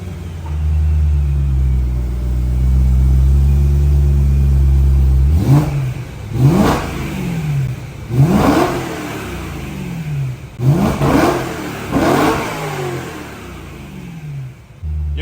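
Modified V8 engine in a truck revving hard in repeated bursts, each blip rising and falling sharply over a deep, loud idle rumble, heard close and alone.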